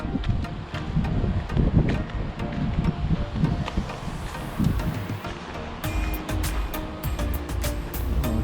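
Steady wind gusting and buffeting the microphone outdoors at Mamure Castle in Mersin, Turkey, on the Mediterranean coast, a continuous rushing roar with occasional faint ticking in the background.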